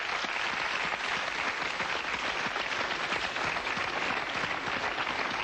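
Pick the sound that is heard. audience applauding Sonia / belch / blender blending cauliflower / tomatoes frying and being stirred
audience applauding Sonia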